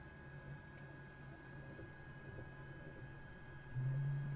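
Helicopter turbine in a flight simulator game spooling up toward flight idle, a steady rising whine with sweeping high tones over a low engine rumble that thickens and grows louder near the end, with no talking.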